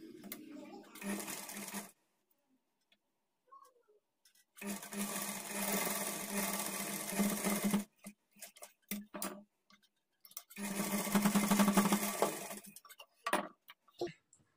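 A sewing machine stitches the edge of a blouse in three loud, rapid bursts separated by pauses, close up, with a person speaking between the runs.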